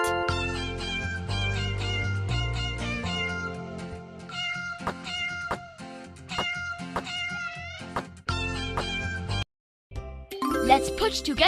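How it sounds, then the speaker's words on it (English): A cartoon cat meows repeatedly in a children's puzzle video game, bright and close, mixed with tinkling chimes and ding effects over cheerful game music, with a brief silent gap near the end. "Wow, this is a cat."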